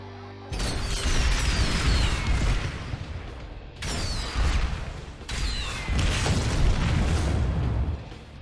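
A vehicle's secondary gun in Planetside 2 fires in three sustained heavy bursts, each a loud booming roar with sharp cracks, separated by brief pauses.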